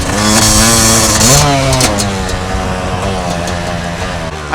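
A Yamaha YZ250 two-stroke dirt bike engine screams loud and close on a motocross track, revving hard with rising and falling pitch as the rider works the throttle through jumps.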